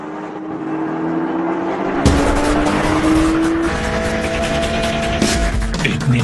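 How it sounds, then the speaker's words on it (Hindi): A Porsche Cayman race car sprints at full throttle, its engine note rising steadily in a loud, sustained howl that jumps sharply in intensity midway, with faint tire noise underneath. "पावर कम होने के बावजूद भी केमन फुल थ्रॉटल स्प्रिंट कर रहा है"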